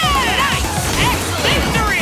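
Crashing, whacking combat effects from the fantasy exercise game Ring Fit Adventure pile up into a dense, loud, continuous barrage of hits and swooshes.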